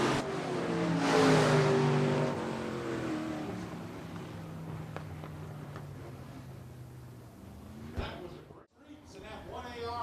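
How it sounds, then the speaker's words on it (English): SportMod and modified race cars rumble around the track on a parade lap at Shelby County Speedway, engines swelling and fading at moderate distance beneath a track announcer's talk. "as the cars make their final parade lap of the evening in front of the great crowd here at the Shelby County Speedway"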